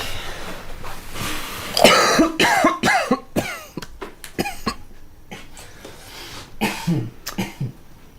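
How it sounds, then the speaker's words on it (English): A run of harsh, throaty coughs and throat clearing, loud and close, with a few quieter coughs trailing off over a noisy background. "Did you just cough?"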